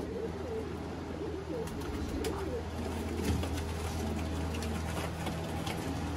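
Ferozpuri pigeons, a flock of females kept as fancy birds, coo steadily in a soft low murmur with a few chirps over a continuous background hum, with no voices.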